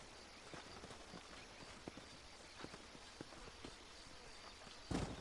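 Horses walking in the western game Red Dead Redemption, a soft, irregular clip-clop of hooves over an outdoor ambience, ending with a louder thump near the close.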